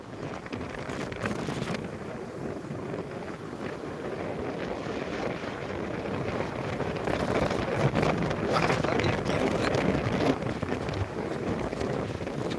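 Strong wind buffets the microphone on a sandy dune, a steady loud roaring rush that builds slightly toward the end, with no voices.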